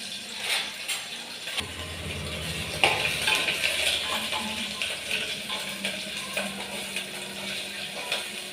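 Onion and ginger-garlic paste being stirred in a hot pan by the mother: steady scraping and clinking of a utensil against the pan, with faint watery sizzle throughout and no talk.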